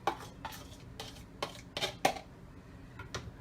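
A spoon stirring garlic powder into vegetables in a pan, heard as several separate scraping, clinking strokes against the cookware, moderately close and fairly quiet, with no talking.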